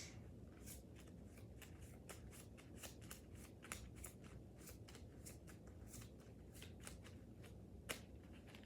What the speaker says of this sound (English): we'll shuffle that shit.